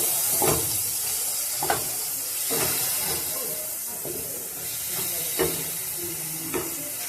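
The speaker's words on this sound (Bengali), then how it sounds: "প্রথমে এই কটা মশলা আমি একটু ভেজে নেব হালকা করে।" Ground coriander, cumin and chilli powder fry lightly in a pan with a steady soft hiss, broken by a few short scraping stirs.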